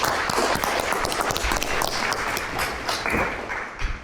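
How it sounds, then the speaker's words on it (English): An audience gives a round of applause to welcome a guest speaker at a watch event, dense steady clapping from many hands close by, fading slightly toward the end. "let's give a round of applause to welcome"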